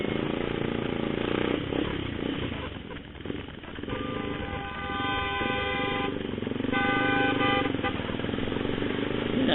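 Vehicle horns honk repeatedly in busy traffic, several sustained blasts over a constant rumble of engines and road noise.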